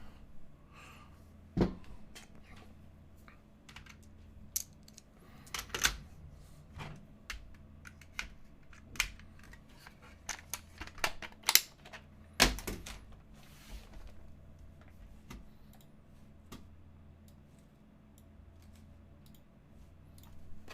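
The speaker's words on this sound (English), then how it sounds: "Let's get some keycaps on it and see how this goes, guys." Keycaps are pressed onto a Box75 mechanical keyboard fitted with Hyperglide switches, giving scattered sharp plastic clicks and taps at irregular intervals, fairly faint and close, with a few louder snaps and no talking.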